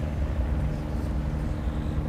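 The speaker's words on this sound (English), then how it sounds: "I hear a helicopter." A Coast Guard helicopter passing near the Blue Water Bridge in Michigan, heard as a steady low rotor rumble that holds constant for a couple of seconds, moderately loud and without speech.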